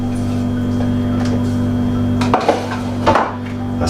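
Tempeh mixture dropped into a bowl and mixed, giving a few close wooden knocks and clatters near the end over a steady background hum.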